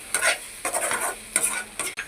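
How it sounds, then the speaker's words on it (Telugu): A spoon stirs egg and green chilli chutney in a pan, giving a few quick scraping strokes over a soft, steady sizzle, close and clear with no voices. "ఇలా తిప్పాలన్నమాట."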